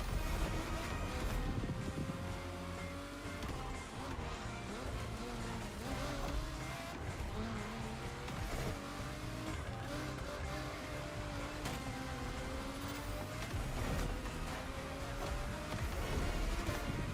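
Car driving in The Crew Motorfest racing game, a steady loud engine drone with shifting pitch that runs through the whole stretch, set against dense game music and ambience, with no talking.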